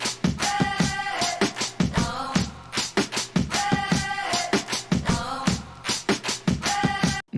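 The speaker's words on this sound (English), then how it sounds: "Now he rearranges the drums in a way like this." A punchy drum loop cut into choppy, repeating segments, with hits and sampled stabs arranged in a stuttering pattern that repeats twice.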